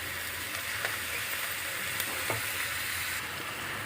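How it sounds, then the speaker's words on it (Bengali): Onions and chillies frying in hot oil for kakrol bhaji, a steady close sizzle with occasional scraping clicks as the pan is stirred, no voices. "পেঁয়াজ এবং লঙ্কাগুলো তেলের সঙ্গে খুব ভালোভাবে মিশিয়ে নিচ্ছি।"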